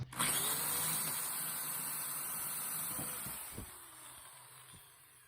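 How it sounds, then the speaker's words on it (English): A power drill whirs steadily at close range for several seconds drilling out rivets on a BMW 323i E46 sunroof track, then winds down, with a few sharp clicks and knocks near the end. "just drill and push down a bit"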